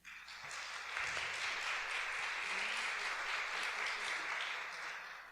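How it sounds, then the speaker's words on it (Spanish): An audience at an academic panel session gives a round of applause that swells quickly, holds steady and fairly distant, then starts to fade. "También le brindamos un aplauso."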